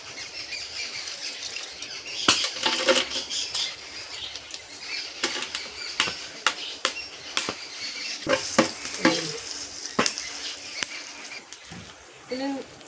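Cardamom, cloves, star anise, cinnamon and bay leaves crackle and sizzle in hot oil for a chicken mandhi, with soft sputtering pops and a few scrapes of stirring, fairly quiet and close.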